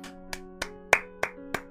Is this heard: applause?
yes